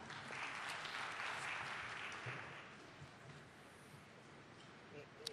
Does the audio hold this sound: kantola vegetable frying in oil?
no